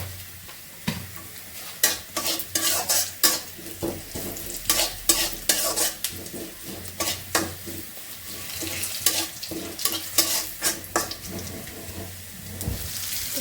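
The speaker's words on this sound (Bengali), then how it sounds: "পাঁচফোড়ন দিয়ে দিলাম" Panch phoron spices sizzling in hot oil for dal, a close crackling fry punctuated by repeated scraping stirs and clattering ladle strokes against the pot.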